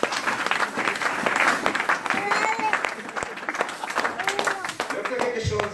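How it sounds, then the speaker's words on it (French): A church congregation claps and cheers together for the glory of God, dense, lively applause filling the room throughout, with voices calling out over it. "Acclamons pour la gloire de Dieu"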